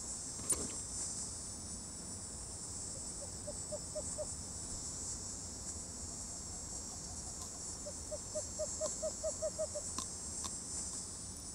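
A cricket chirps faintly in a wild nighttime setting, with short evenly spaced pulse trains in two brief bursts against a steady high insect drone and low background noise.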